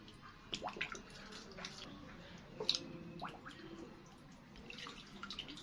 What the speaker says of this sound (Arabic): هنغسله بقى في ميه.